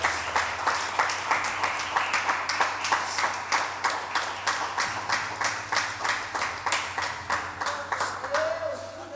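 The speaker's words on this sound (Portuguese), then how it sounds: "Uma salva de palmas pela vida dela" A church congregation claps in unison, a steady rhythmic beat of roughly two to three claps per second throughout, with a voice briefly rising near the end.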